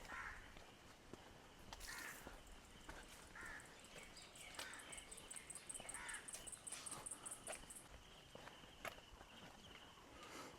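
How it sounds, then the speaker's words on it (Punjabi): Several birds call outdoors at Pong Dam: crows caw repeatedly while a high, rapid trill runs through the middle, all fairly faint with light rustling and steps. "ਪੰਛੀਆਂ ਦੀਆਂ ਆਵਾਜ਼ਾਂ ਹੀ ਆਵਾਜ਼ਾਂ ਆ ਰਹੀਆਂ ਆ"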